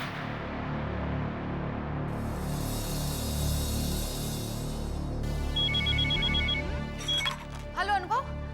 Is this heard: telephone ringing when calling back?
yes